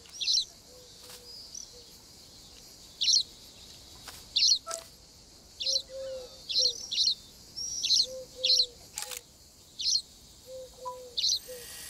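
Birds at a feeder in the game Alba: A Wildlife Adventure, giving about ten short bright chirps spaced irregularly, clear and close against a quiet background, with a few soft lower calls between them.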